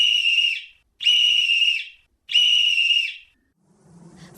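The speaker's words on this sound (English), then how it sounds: "blew 3 times upon her silver whistle" Three long, shrill blasts on a silver whistle, evenly spaced and loud, followed by a faint low rumble.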